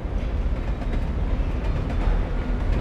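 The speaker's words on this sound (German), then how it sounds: "Ja, yippie, der Zug, das freut mich aber." A train rumbles past in the video game Alan Wake, a steady, dense low roar with faint rhythmic clatter, heard alone throughout.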